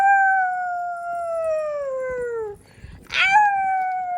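A voice imitates a wolf howl with a long, loud, sliding falsetto tone that slowly drops, breaks off briefly, then starts again on a second howl.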